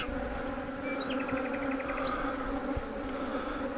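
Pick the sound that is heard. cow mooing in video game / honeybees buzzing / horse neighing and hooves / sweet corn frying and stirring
honeybees buzzing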